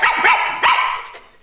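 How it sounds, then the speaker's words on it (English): A dog barks twice in quick succession, loud and close, each sharp bark trailing off into a short, fading tail. "so I barked and scratched at the door"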